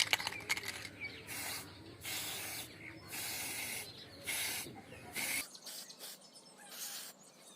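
Black spray paint hisses onto a tube light on a rooftop in repeated bursts of roughly a second each, separated by short pauses, close and fairly loud.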